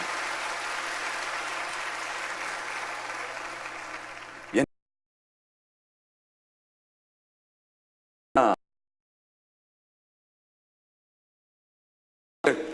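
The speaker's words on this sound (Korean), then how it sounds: "우리 엄마 아빠들 위해서도 박수 한번 해주시고요." Congregation applause during a New Year special dawn worship service in a church, a steady wash of clapping for about four and a half seconds that cuts off abruptly, followed by silence broken by two brief bursts.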